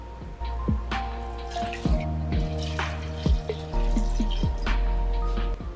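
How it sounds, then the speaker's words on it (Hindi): Two glasses of water poured into a pressure cooker holding 1 kg of meat for a karela gosht curry, a steady splashing trickle with drips running close by for several seconds. "गोश्त डालने के बाद हम इसके अंदर 2 गिलास पानी डालेंगे"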